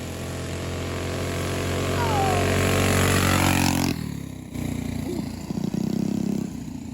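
A Coleman 200 U-EX mini bike engine races off the line, a loud, steady revving drone that climbs in pitch, then cuts sharply and sputters before picking up again, close by.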